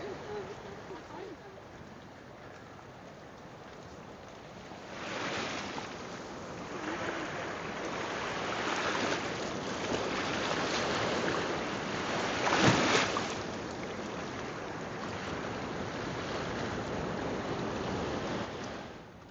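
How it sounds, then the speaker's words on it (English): Ocean waves wash onto a beach on Guadeloupe, a soft rolling surf that rises and falls in gentle surges, with one sharper crash midway, heard from a short distance with faint wind and no clear talk. "I hear the waves, Carmelita."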